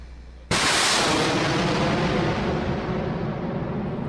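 A single close artillery shot booms out suddenly and then trails off in a long, loud rumbling roll that fades slowly over several seconds.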